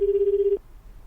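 A single steady electronic telephone tone sounds loudly for about half a second and then cuts off, leaving only faint background hiss.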